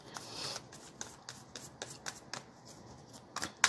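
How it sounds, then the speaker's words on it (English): Cards are shuffled close up in quick, repeated riffling bursts, each a crisp papery flutter, ending with a sharper snap. "Gonna give it a good shuffle, and then I'll pull all the cards out at once."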